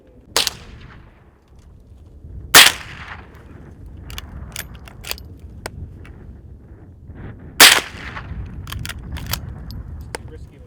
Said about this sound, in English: Found us some cans to shoot at.